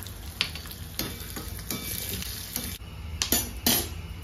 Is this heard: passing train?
no